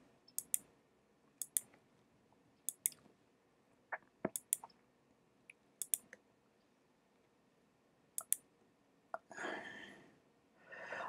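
Sharp mouse clicks, some single and some in quick pairs, spaced irregularly over a quiet background, followed by a burst of rustling noise near the end.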